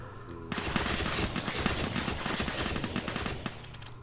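Rapid automatic gunfire in the Crafting Dead Minecraft mod, a sustained burst of evenly spaced shots that starts abruptly, runs for about three seconds and stops sharply, loud and close.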